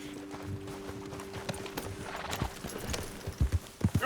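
A horse in the Western video game Red Dead Redemption 2 trots and clip-clops at a fairly low level, its hoofbeats growing louder and more distinct toward the end.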